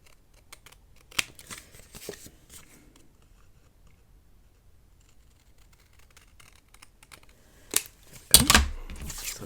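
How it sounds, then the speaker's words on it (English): Scissors snipping the borders off paper for a Christmas ephemera folio, with a few sparse close crisp cuts early on and then a louder burst of rapid snipping near the end, against near silence. "I'm just gonna go ahead and cut these 2 borders off with my scissors"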